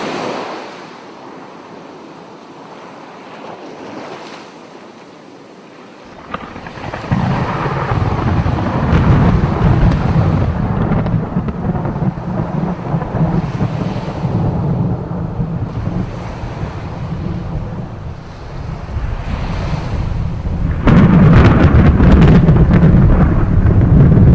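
A storm at sea batters a ship, starting with faint distant wind before heavy surf and gusting wind surge in, roaring loudly and continuously with crashing waves.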